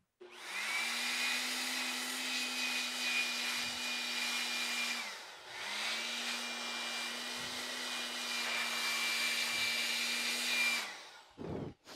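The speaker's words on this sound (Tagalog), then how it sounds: "Blower ko lang," Air blower cleaning a graphics card, a loud whining rush of air in two long bursts, separated by a short pause and cut off at the end.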